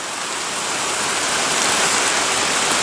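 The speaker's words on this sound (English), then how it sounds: "Oh, look at the rain!" Rain falls heavily and steadily, a dense, even hiss of drops on surfaces that fills the whole short stretch without pause and without voices.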